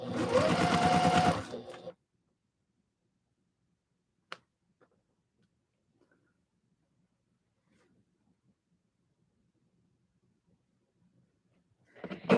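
An embroidery machine stitches in a loud, dense burst for about two seconds, stops, and starts again at the very end, with near silence and a few faint ticks in between.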